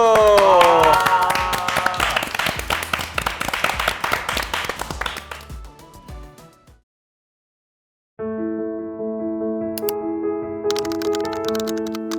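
A burst of clapping from a small group in an indoor studio gathering of the Gen.G League of Legends team, dense at first and then tapering off, followed by silence and a bright synthesized tune.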